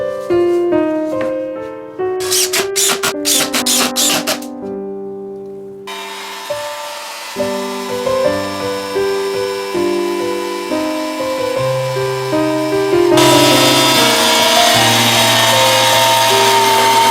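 A router cuts recesses for nylon glides in a router table fence, with several short bursts of high whining cutting, then a long steady tonal drone that grows louder and harsher toward the end; no talking.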